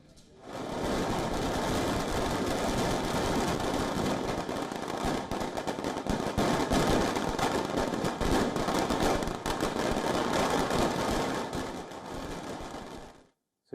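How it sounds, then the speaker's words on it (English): Firecrackers burst in a rapid, continuous crackling barrage during a street celebration in Colombo, loud and dense for over ten seconds before cutting off abruptly. "Supporters of Ranil Wickremesinghe burst firecrackers and celebrated on the streets of Colombo."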